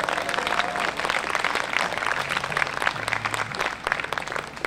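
An audience at an outdoor summer concert in Great Neck Plaza applauds steadily for several seconds, a dense patter of many hands clapping at once, with faint accordion or keyboard tones underneath.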